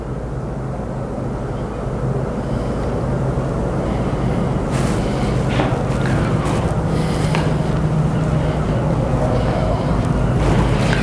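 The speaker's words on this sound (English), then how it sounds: "Another boat on its way out of the harbour." A low, steady engine drone of a boat leaving a harbour hums continuously, with wind buffeting the microphone and faint scattered clatter.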